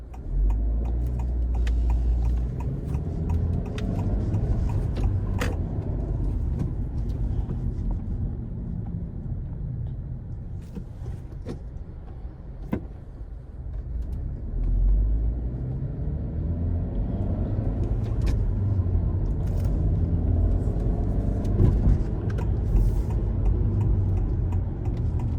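A manual-transmission car driven by a learner, its engine rumbling steadily up close with rising and falling revs as gears change, a continuous low drone throughout with no talk.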